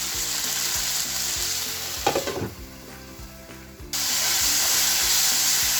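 Tomato masala for chole sizzles loudly in a pan with a bright continuous hiss, briefly dulled and stirred midway before the strong frying sound returns, with faint music underneath.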